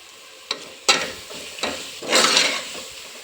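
Turmeric, chili powder and coriander powder stirred into a sizzling tomato mixture in a pan for tomato rice, with a few scraping strokes and a rising hiss of frying, close and without talk.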